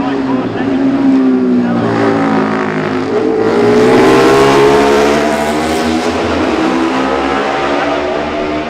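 Racing motorcycles in the Classic TT Junior race roar past at Ramsey, several machines close together, their loud rising and falling engine notes overlapping as they sweep by, with a commentator's voice running underneath.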